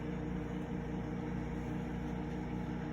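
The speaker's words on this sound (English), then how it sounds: "do not step away from the microwave" A microwave oven hums steadily while cooking Kraft macaroni and cheese, a constant low drone with a faint whirring hiss that stays even and unbroken throughout, with no voices over it.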